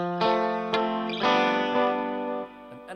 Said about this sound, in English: analog delay sound.